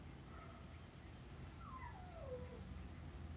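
A dog whines faintly outdoors, a single drawn-out falling whimper over a quiet background hum.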